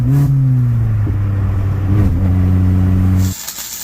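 A Ford Fiesta engine runs with no muffler or resonator fitted, giving a loud, raw, droning exhaust note that steadies after a brief rev, holds for about three seconds, then cuts off abruptly, leaving quiet hiss.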